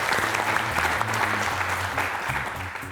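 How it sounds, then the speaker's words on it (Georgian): Sustained applause from a studio audience at a Georgian book quiz show for a competing team, dense and even throughout, with a low tonal hum running underneath. "აპლოდისმენტები პიკნიკს მტკვრის პირას."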